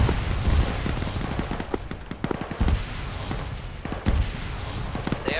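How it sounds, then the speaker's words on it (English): Battle sounds from the military shooter game ArmA: repeated booming explosions, including a helicopter cooking off, and bursts of gunfire, rumbling at intervals over continuous background noise. "There's a lot of explosions."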